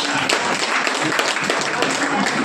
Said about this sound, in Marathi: तुमच्यासाठी मला जोरदार टाळ्या वाजवायच्या आहे